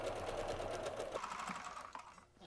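A sewing machine runs a long basting stitch around the edge of a scrappy mini log cabin quilt block, humming steadily and close before slowing to a stop.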